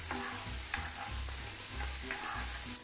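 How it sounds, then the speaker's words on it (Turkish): Halloumi cheese fries in a pan with a steady close sizzle, broken by small pops and sputters as water spits out of the cheese. "Hellimin içinde hafif su olduğu için böyle biraz pıt pıt dışarı atacak."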